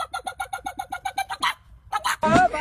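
A chicken gives a quick run of rhythmic, evenly spaced clucks, then a voice and other sounds take over in the last second.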